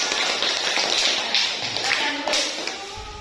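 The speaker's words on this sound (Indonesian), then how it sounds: "Tepuk tangan oleh semua" Students in a classroom clap together after an economics lesson presentation, a brief burst of scattered, uneven hand claps with some taps and thuds, and faint voices underneath.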